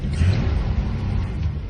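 Land Rover Series 2 engine running with a steady low rumble that swells slightly as the throttle is set, close and continuous with no talk.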